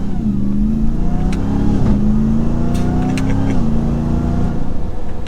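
A 2023 RAM TRX truck's engine revs in manual drive mode, a loud, deep drone that climbs, dips briefly and climbs again in steady pitch steps, heard from inside the cab.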